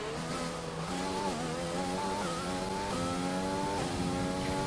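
Formula 1 car engine in the F1 2020 racing game, a steady high-pitched whine with gear shifts stepping the pitch up and down, loud and continuous without talk.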